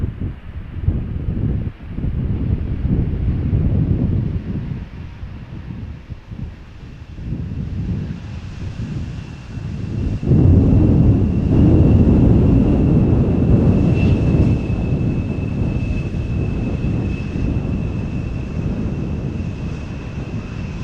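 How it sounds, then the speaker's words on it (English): KLM Embraer 175 airliner arriving at Schiphol from Prague in gusty crosswind: a moderate engine rumble with a steady whine, buffeted by heavy wind noise on the microphone that swells midway, with no voices. "This is KLM Flight 1352, Embraer 175, arriving from the Czech Republic"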